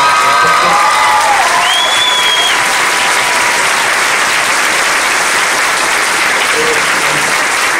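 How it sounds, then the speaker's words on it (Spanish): Sustained applause from a theatre audience after a comedy stage performance, loud and steady throughout, with a few faint voices and whistles over the clapping. "por favor, regalemos otro fuerte aplauso a Alex Quiroz, por favor."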